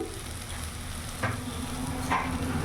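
Ground turmeric, Kashmiri chilli and cumin fry in a pan as they are stirred, giving a steady soft sizzle with two distinct scraping strokes of the spoon.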